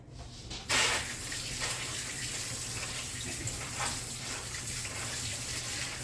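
A kitchen tap runs steadily as hands are washed, a continuous close rush of water beginning abruptly after a brief quiet moment and flowing without pause.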